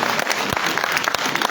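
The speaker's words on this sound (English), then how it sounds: "before you give a hand of applause" A crowd clapping steadily at a cabinet retreat at the EJS Ministerial Complex, Liberia, a dense wash of applause that stays even throughout.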